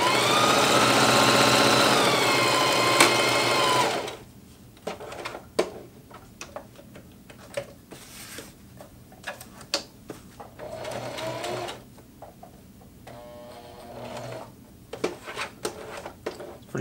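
A Singer HD sewing machine runs a straight stitch at its longest stitch length through cordura, a loud steady whir for about four seconds, followed by quieter clicks and handling sounds.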